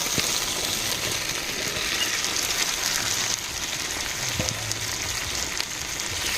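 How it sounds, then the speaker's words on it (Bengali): Jackfruit, potato and boal fish frying together in a pan, a soft continuous sizzle with light scraping and stirring and an occasional faint clink, close and fairly quiet. "এঁচড় আলু মাছ একসঙ্গে ভালোভাবে কষিয়ে নেবো"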